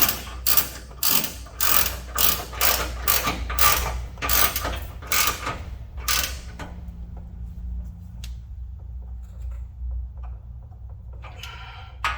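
Ratchet wrench tightening the front skid plate bolts on a Toyota Tacoma SR5, a fast run of loud, close clicking strokes for about six seconds, then quieter scattered metallic clicks and faint handling noise.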